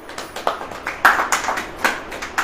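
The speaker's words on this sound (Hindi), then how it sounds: "ताली बजाएं" Scattered hand claps from an audience at a church preaching event come in uneven bursts, fairly close and moderately loud, with no voices over them.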